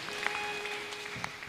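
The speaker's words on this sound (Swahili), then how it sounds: "Pigieni ye makofi." A church congregation at a Kikuyu service claps in a soft, continuous patter with a few sharper claps standing out, moderately distant.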